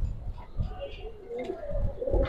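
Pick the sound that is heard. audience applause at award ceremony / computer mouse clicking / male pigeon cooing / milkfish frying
male pigeon cooing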